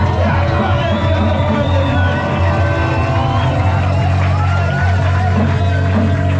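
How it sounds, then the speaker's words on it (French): A church congregation shouting and whooping for joy, a loud, sustained crowd of many voices yelling together over a steady low hum. "nous pouvons pousser des cris de joie"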